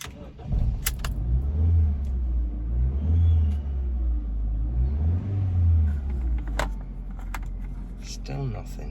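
Low rumbling idle of a Ford Focus Finesse engine running, with swelling surges and some clicks and rattles, heard under someone talking.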